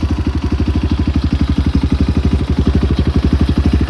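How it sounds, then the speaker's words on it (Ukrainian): A Kovi Advance 300 motorcycle engine idles with a loud exhaust, giving off a fast, steady, throbbing putter that is close and strong throughout, with no talk. "Гучний вихлоп, так що мотоцикл буде дуже гарно тут на дорозі, дуже гарно."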